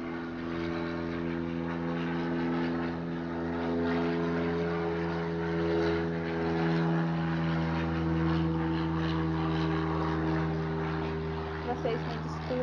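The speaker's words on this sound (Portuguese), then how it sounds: "muitos aviões hoje" Propeller airplanes drone overhead among busy traffic noise, a steady layered engine hum with tonal whine rising and easing over twelve seconds, while someone talks throughout.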